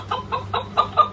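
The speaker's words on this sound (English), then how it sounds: "A hen is a female chicken." A hen clucks alone in a quick series of about five short, close clucks in steady rhythm.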